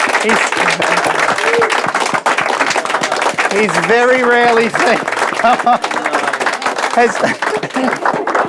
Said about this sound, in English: please give a big round of applause to Craig Wacker